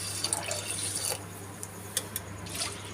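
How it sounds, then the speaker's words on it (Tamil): Water poured onto soaking rice for idli batter, a steady close trickle and splash with a few sharp drips standing out near the end. "அரிசி நனைகிற அளவுக்கு ஊற்றிக்கிறேன்."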